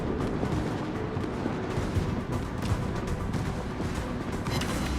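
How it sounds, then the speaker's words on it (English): Warship main battery guns firing in the naval game World of Warships, with a continuous thunderous barrage of heavy booms and rumbling blasts, loud and dense throughout, no voices. "Front 6 guns, shots out."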